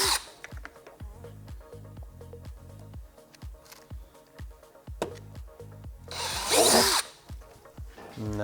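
A power drill with a 1/4 inch bit drives a screw during a fender eliminator install on a 2021+ Yamaha MT-07, heard as rapid repeated ratcheting pulses and close near-continuous motor buzzing, with a louder burst of grinding whir near the end.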